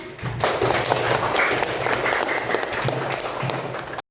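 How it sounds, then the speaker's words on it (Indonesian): Students in a classroom applaud a group after their presentation in an Islamic studies lesson, a short burst of clapping with some thumps and shuffling, fairly close and continuous. "Kita beri tepuk tangan"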